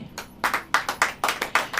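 A church congregation claps in a short burst, a rapid run of sharp hand claps that fall in a loose, uneven rhythm, close and fairly loud with no talk over them.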